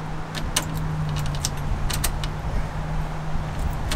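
Car keys jangle inside a low-mileage Golden Eagle car, a series of small bright metallic clinks scattered over a few seconds, close by, over a steady low hum.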